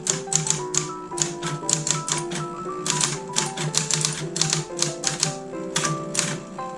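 A Corona manual typewriter clatters with rapid, uneven keystrokes close up, the sharp taps coming in quick bursts with brief pauses between them.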